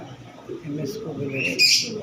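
A low racing pigeon coo rumbles under nearby handling noise, with a brief brighter chirp near the end.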